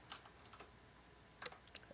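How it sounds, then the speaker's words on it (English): Typing on a computer keyboard, faint quick key clicks in small irregular bursts, alone with no talk. "Let's just start typing"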